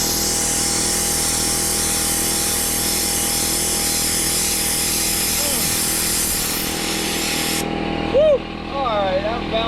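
A mini sand blaster blasts rust off metal with a steady, loud, hissing roar of air and abrasive that cuts off sharply near the end, leaving a voice speaking.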